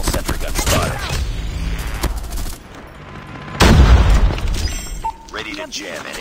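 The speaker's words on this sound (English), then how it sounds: "Enemy sentry gun has been destroyed." Heavy gunfire and a deep, booming explosion of an enemy sentry gun being destroyed in a military shooter video game, the loudest blast landing midway, with voice-like game chatter mixed through the busy battle noise.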